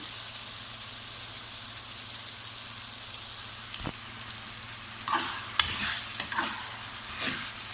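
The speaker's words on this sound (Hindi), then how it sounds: "अब ये भिंडी हम इसमें डाल लेते हैं। इसको हम अच्छी तरह मिक्स कर लेंगे।" Okra frying in pickle masala gives a steady, soft sizzle, then a handful of sharp spoon scrapes and clinks break in as it is mixed, close and otherwise quiet.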